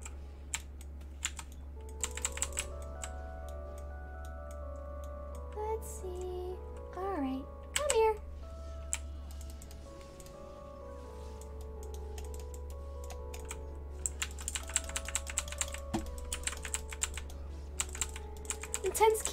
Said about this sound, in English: Keyboard spamming? True.